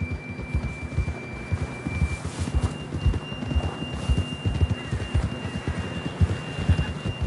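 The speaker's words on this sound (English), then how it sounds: "John was riding that horse when we left Blackwater" Rapid rhythmic hoofbeats of a galloping horse in the video game Red Dead Redemption 2 pound steadily throughout, with a faint tonal hum and wind-like noise running underneath.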